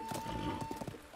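A horse gallops in The Legend of Zelda: Breath of the Wild, its rapid rhythmic hoofbeats thudding clearly in a short burst over a steady game background tone.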